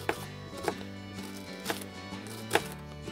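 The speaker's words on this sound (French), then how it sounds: "après avoir pelé une petite échalote, je vais la couper légèrement en rondelles" A knife slices a peeled small shallot into rings on a cutting board, four crisp chops spaced roughly every second, close and clear over a steady low background hum.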